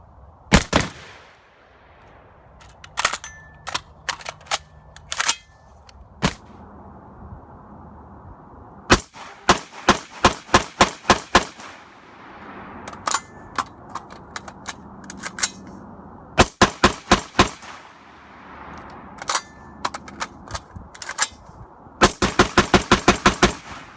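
A CMMG Mk47 Mutant AK-AR hybrid rifle firing rusty, low-grade ammunition outdoors: sharp, loud single shots and rapid strings of reports, separated by quiet pauses.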